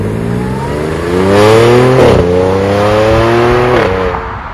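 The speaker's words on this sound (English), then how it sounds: "you're gonna hear the V6 and the supercharger kick in" Supercharged V6 of an Audi S4 revving hard under acceleration, its loud engine note climbing in pitch, dropping sharply at a gear shift, then climbing again before a second shift, with no talking.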